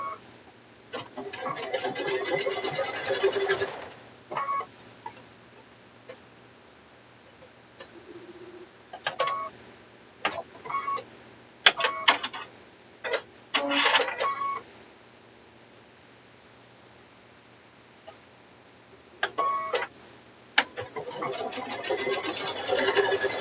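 Sewing machine stitching through fabric-wrapped rope while forming a rope bowl, running in short close bursts with rapid needle chatter, separated by pauses filled with clicks and handling noises.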